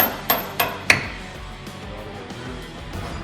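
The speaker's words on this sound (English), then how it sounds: "A little bit of hammer." A hammer strikes three sharp, close taps in quick succession on a bolt being driven into a metal leaf spring hanger, followed by quieter garage background.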